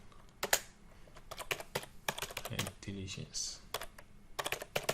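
Values being typed on a computer keyboard, with quick irregular key clicks and a few heavier keystrokes, close and clear, while a voice speaks briefly.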